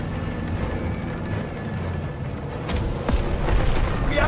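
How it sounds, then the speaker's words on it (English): A German Panzer tank in the Call of Duty WWII campaign rumbles with a deep, steady engine and mechanical track clatter, joined by booming impacts and rising battle noise toward the end, with no talking. "We got another Panzer here too!"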